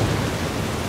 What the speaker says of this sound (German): Aber geil ist es schon, das Gewitter, ne?